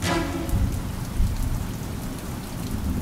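Heavy rain pours steadily and loudly, with low rumbles of thunder rolling beneath the dense hiss of falling water throughout.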